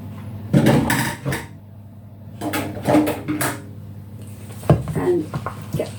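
A big heavy wooden spoon stabs chocolate chips into oatmeal cookie dough, several close dull thuds and scrapes in separate bursts against a bowl, with quiet pauses between.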